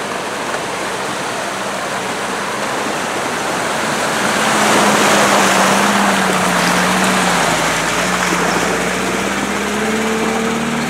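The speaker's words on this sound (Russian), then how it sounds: "Переезжаем реку вброд." An all-terrain vehicle fords a river, its steady engine drone blended with loud continuous rushing and splashing water, close and unbroken throughout.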